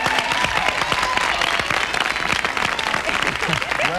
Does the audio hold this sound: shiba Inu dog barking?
no